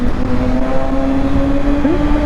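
A Kawasaki ZX6r inline-four motorcycle exhaust drones loudly at a steady pitch close by, with a brief rise in revs near the end amid road noise.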